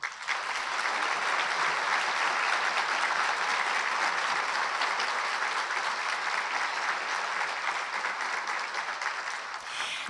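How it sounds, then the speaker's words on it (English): A large audience at a hometown heroes awards ceremony breaks into loud, sustained applause, dense and even throughout, fading a little near the end. "Please join me in a huge round of applause for Kim Winn."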